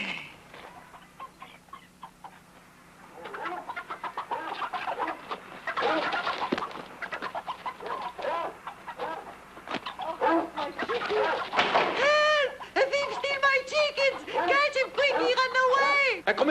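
Chickens cluck and squawk at a farm, starting as sparse scattered calls and growing into a loud, agitated flurry of overlapping clucks and cackles near the end.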